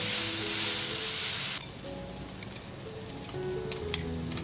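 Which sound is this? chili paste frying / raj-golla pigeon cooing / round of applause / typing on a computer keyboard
chili paste frying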